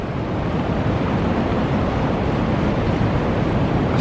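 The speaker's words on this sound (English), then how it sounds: "Now look at the waves." Waves break and surge at the St Lucia estuary mouth after stormy weather, a continuous loud roaring wash of surf mixed with buffeting wind noise, with no voices.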